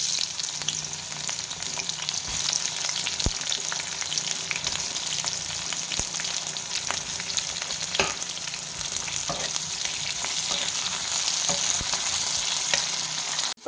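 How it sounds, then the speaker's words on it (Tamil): Onions frying in hot oil in a pan for a Telangana mutton curry, a steady loud sizzle with occasional stirring scrapes, close by and continuous. "இதில் வந்து வெங்காயத்தை நம்ம சேர்த்துக்கலாம்."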